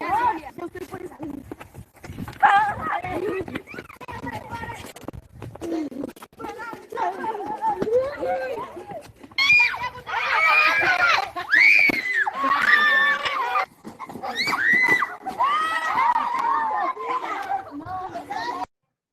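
Children shouting and screaming as they play a ball-tagging game at school, lively overlapping voices rising and falling for the whole stretch, with running footsteps and excited calls close by.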